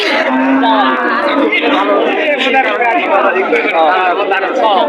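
Cattle low and moo repeatedly amid a crowded Eid livestock market at Madbarerchar, the drawn-out calls mixed into dense crowd chatter and people talking close by.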